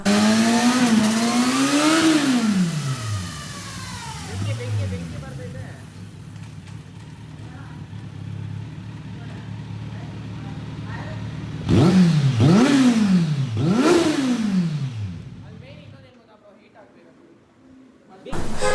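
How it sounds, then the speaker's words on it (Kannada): Loud Kawasaki Z900 superbike engine with a new aftermarket exhaust, DB killer removed, revs up and down in sweeping bursts, a deep raspy exhaust roar, then a run of sharp blips before idling down. "ಸ್ಟಾರ್ಟ್ ಮಾಡೋಣ ನಮ್ಮ ಸೂಪರ್ ಬೈಕ್"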